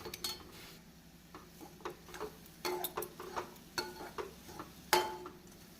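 Grated jaggery, cardamom powder and grated coconut are stirred in a pan for a sweet modak filling, with irregular close spoon clinks and scrapes against the metal over a quiet, faintly sizzling background.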